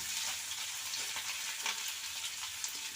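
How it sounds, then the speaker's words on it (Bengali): Small mourola fish sizzle steadily in hot oil as they are flipped, a dense, continuous frying hiss up close with faint stirring clatter, no voices. "এবার ওপর পাশটা আমি উল্টে দিচ্ছি"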